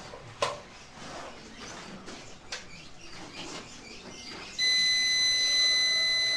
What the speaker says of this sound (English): It sounds an alarm.